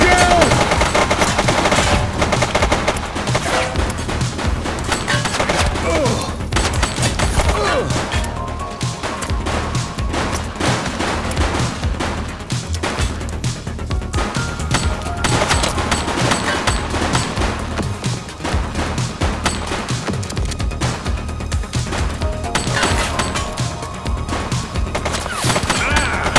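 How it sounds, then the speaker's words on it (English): Gunfire in the police video game The Precinct, played on Xbox Series X, with loud shots and impacts running throughout inside a dense, continuous mix of game sound effects and music. "He's shooting!"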